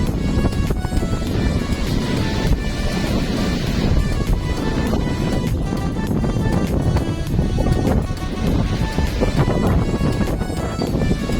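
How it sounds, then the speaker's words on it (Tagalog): Loud, continuous roar of heavy surf pounding the shore at Anda, Bohol, with relentless crashing and rushing water mixed with strong wind buffeting the microphone. "Grabe yung ampas ng alon sa pangpang"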